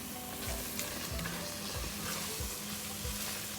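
Prawn curry simmers and sizzles steadily in a pan over a medium flame, a continuous bubbling fry with soft scattered pops throughout and no voices.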